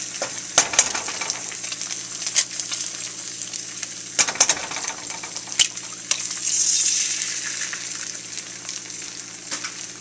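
Eggs sizzle steadily in a hot pan while fried rice is being made, a constant bright frying hiss with a few sharp clicks and scrapes of a utensil against the pan, close by and with no voices.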